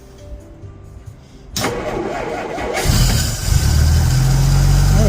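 A Dodge engine fitted with a Stromberg BXVES-3 carburetor cranks and catches, rising from a low starter grind into a loud, steady running rumble close by, with a brief spoken word early on.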